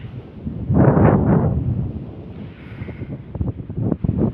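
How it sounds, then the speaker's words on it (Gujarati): Wind buffets the microphone in heavy low rumbling gusts, loudest early on, with softer gusting and faint outdoor noise afterward. "બરોબર પવન બહુ વધારે છે"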